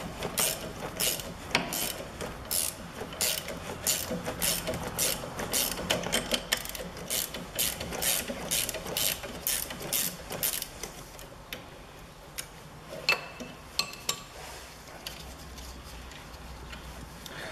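A spanner works a nut on the top mount of a Peugeot 5008's suspension, giving a fast, steady series of close metallic ratcheting clicks that thins out into sparse, irregular taps.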